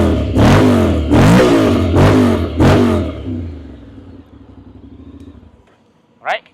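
A Honda X-ADV750 motor scooter engine cranks and revs in four loud bursts, then settles into a low idle that fades, followed by a short sharp sound.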